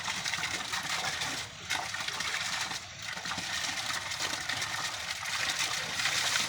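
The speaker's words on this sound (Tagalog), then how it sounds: "Tuloy-tuloy ang agos. Yan tinatawag na parang flowing water." Water from a steady stream source flows continuously, a broad rushing wash that stays fairly constant throughout with slight dips.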